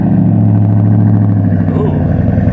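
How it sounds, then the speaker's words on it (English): A Ford Raptor pickup truck engine idling close by after a remote cold start, a loud, steady low rumble with an even throb and no change in pitch. "Let's try the remote start."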